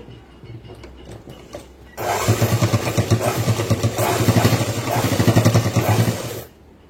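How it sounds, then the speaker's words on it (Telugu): A sewing machine stitches over and over along a seam on a boy's school uniform trousers, starting abruptly and running in a fast, steady mechanical clatter for about four seconds before stopping. "కుట్టు మీదనే కుట్టు ఒక 4-5 సార్లు వేసేసేయండి"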